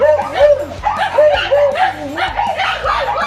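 Several dogs at a house barking and yipping close by in rapid, overlapping bursts, with whiny high-pitched yelps between barks, loud and continuous.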